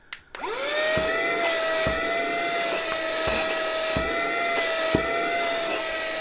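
A cordless car vacuum cleaner, repacked with new batteries, switches on and runs with a steady high motor whine, with a few soft bumps from handling.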